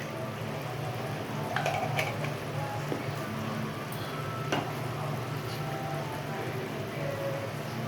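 Chopped capsicum goes into a hot pan and fries with a steady, even sizzle, broken by a few sharp clinks and stirring scrapes near the start and middle, with faint talk in the background.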